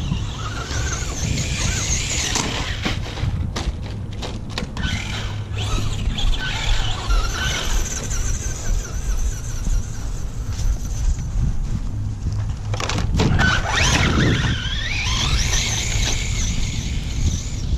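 A Traxxas Slash 4x4 RC car with a Castle 2200 motor and Mamba Monster ESC on 4S runs at full throttle, its high motor whine and tire squeals rising and falling close by, continuously throughout.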